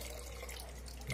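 Water runs steadily into a fish tank during a water change, a soft continuous pouring and splashing that stays faint and even throughout.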